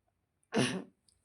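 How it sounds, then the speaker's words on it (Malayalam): A single short, sharp cough bursts out close to the mic, then silence returns. "ചുമ"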